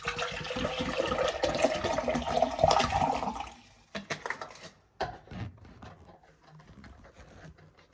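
Hot water is poured onto instant noodles in a cup, a steady splashing stream for a few seconds, followed by scattered clinks and handling noises.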